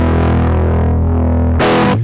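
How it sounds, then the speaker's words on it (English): Electric guitar through a Fender 5E3 amp emulation with jumpered normal and bright channels, a sustained distorted chord ringing loud and steady, then a brief harsher strum near the end, with no talking. "the way of doing it on the 5E3 was to boost your normal and bright volumes, and then with the jumper effect"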